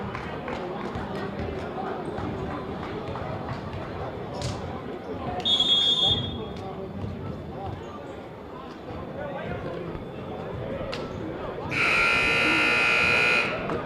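At a boys' high school basketball tournament game, a shrill electronic buzzer sounds briefly, then a longer, louder blast ends the game, heard over crowd noise while a commentator talks.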